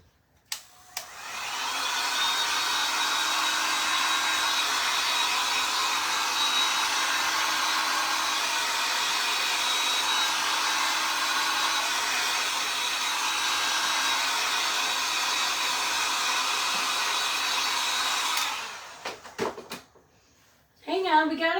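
Hair dryer drying paint on a handmade DIY "Love Summer" sign, a steady loud whooshing blow that runs continuously for about eighteen seconds before switching off, followed by brief handling noises.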